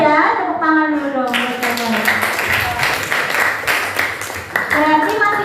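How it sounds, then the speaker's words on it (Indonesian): Classroom students clapping hands together in a short burst, fairly loud and close, while a teacher's voice talks over the start and end of the clapping. "Tepuk tangan dulu dong."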